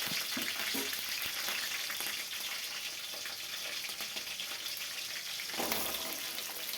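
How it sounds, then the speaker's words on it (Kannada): Green chilies roasting in a hot pan for an aloo-peas stir-fry, giving a steady broadband sizzle that holds throughout with a brief louder flare near the end, close up and without talk. "ಫಸ್ಟು ಮೆಣಸಿನ್ಕಾಯಿ ಹಾಕ್ಕೊಂಡ್ಬಿಟ್ಟು ಅದೊಂದು ಎರಡು ನಿಮಿಷ ಅದರಲ್ಲೇ ರೋಸ್ಟ್ ಮಾಡಿಬಿಡ್ತೀನಿ"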